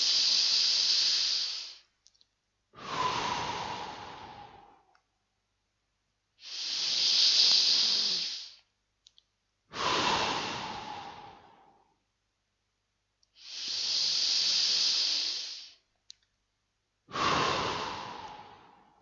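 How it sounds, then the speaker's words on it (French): Three deep breaths during a sophrology relaxation session, each a long hissing inhale followed by a slower, softer exhale, close and clear with silent gaps between them. "vous allez faire 3 grandes respirations profondes"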